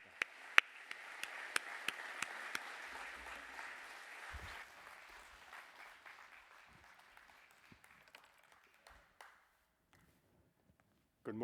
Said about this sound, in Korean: 우리 장로님 나오실 때 우리 힘찬 박수를 계속해서